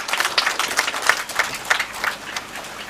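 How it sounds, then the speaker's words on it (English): Scattered applause for the chief guest at a nursing college graduation ceremony, a modest crowd clapping in uneven bursts with individual claps standing out, moderately close and unaccompanied by talk. "a warm round of applause"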